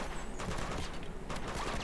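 A quick volley of distant gunshots in Uncharted 2: Among Thieves on PS4, sharp bursts scattered over a busy game-sound backdrop, fairly faint and without speech.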